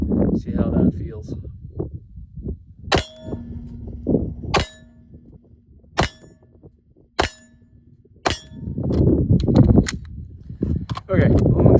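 Sharp Canik Mete Prime pistol shots ring out one at a time, five loud cracks spaced roughly a second or more apart, with someone talking before and after the string of fire.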